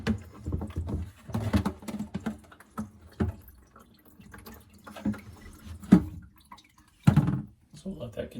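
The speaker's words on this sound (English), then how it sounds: "all that water that might be built up in this is going to come out of here" Water drips and trickles out of a disconnected sink trap into a bucket during a slow-drain repair, irregular splashes and gurgles close by, with a person speaking over it.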